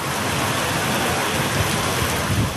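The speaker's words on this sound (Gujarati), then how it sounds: "રાજસ્થાનના સિકરમાં આંધી સાથે વરસાદ ત્રાટક્યો" Heavy rain pours steadily in a storm over Sikar, Rajasthan, following a dusty windstorm: a dense, loud, continuous hiss with faint low rumbling underneath.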